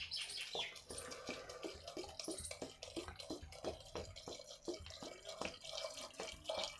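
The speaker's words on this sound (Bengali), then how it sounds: "দিয়ে দিচ্ছি পরিমাণ মতো জল।" Water is added to chana dal cooking with goat fat, heard as a steady run of close drips and small splashes with fine watery spatter between them.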